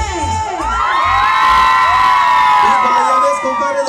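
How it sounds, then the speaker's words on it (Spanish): A large crowd of women screaming and cheering loudly together, high-pitched and sustained, with a low thumping beat underneath. "Quiero escuchar el grito de todas las mujeres."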